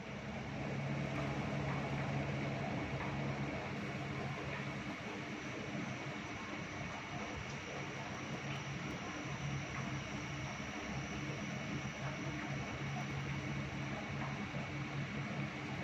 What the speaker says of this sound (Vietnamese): Máy tua rất là êm.